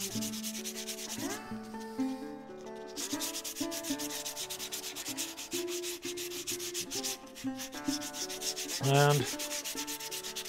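Sandpaper rubbing steadily across a hand-shaped stone oloid, a continuous scratchy sanding that runs close and fairly loud throughout, with tonal music playing underneath.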